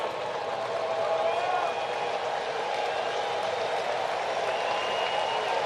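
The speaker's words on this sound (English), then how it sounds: "Crowd cheering him on." A baseball stadium crowd at a Phillies–Braves game keeps up a steady, distant cheering and clapping. The broad wash of noise has faint whistles drifting through it.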